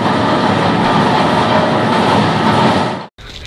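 Heavy machinery at a large recycling plant roars in a loud, dense, continuous rumble that cuts out abruptly near the end before resuming briefly.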